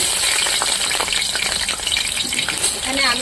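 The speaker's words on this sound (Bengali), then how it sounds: "আমি আলুগুলো ভেজে নেব মাংসের আলু দেওয়ার জন্য" Potatoes frying in hot oil in a kadai: a loud, dense sizzle and crackle that fills the whole moment, with a bit of stirring noise.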